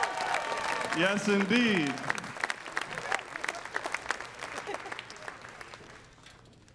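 An audience at a jazz education anniversary gala applauds and cheers for a singer and her band, a dense sustained ovation that tapers off near the end, with a brief voice speaking over the clapping early on.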